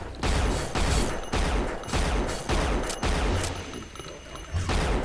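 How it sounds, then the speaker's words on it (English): Rapid pistol gunfire in the game Unreal, a string of loud, evenly spaced shots with punchy low thumps, continuing without pause across the stretch and without voices. "I'm trying to use the pistol on these guys"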